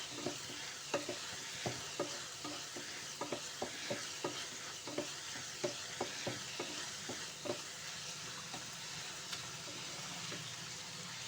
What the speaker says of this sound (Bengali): দিয়ে আবারও খুব নেড়ে চেড়ে ভালো করে মিশিয়ে নেব।